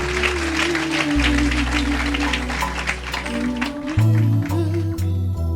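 A church congregation applauding during a wedding vow ceremony at a Saturday service: steady clapping over a sustained organ-like keyboard drone and bass, with some voices mixed in.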